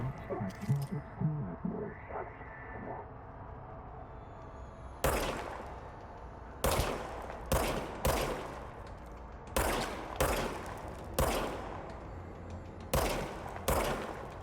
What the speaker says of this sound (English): Okay, now I have a gun. Интересный такой пистолет.